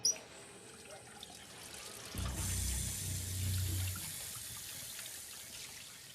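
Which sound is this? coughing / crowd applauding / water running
water running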